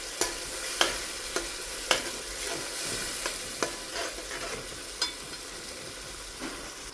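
Stuffed bitter gourd curry with green onion stirred and frying in a pan, a steady soft sizzle broken by repeated sharp scraping clicks of the spoon against the pan, close and alone with no talk.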